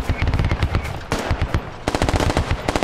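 Loud, close bursts of automatic machine gun fire in a Squad military shooter game, rapid rhythmic shots in two long strings separated by a brief pause.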